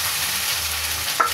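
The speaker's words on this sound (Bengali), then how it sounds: "পেঁয়াজ আমার লাল হয়ে গেছে। আদা রসুনের পেস্টটা দিচ্ছি।" Ginger garlic paste frying with browned onions in a pan, a steady close sizzle with a brief stirring clink near the end.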